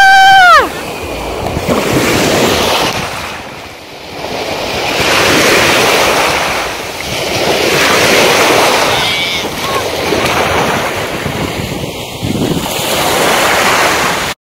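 Ocean waves surge and crash loudly in repeated swells at a beach in Zambales, heavy wind buffeting the microphone, with a brief whistle-like sound at the start.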